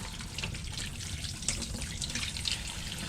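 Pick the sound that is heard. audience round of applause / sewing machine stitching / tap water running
tap water running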